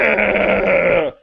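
A voice imitates the drawn-out moan of a cow struck by a remote-control helicopter rotor, one loud sustained bellow of about a second that cuts off abruptly.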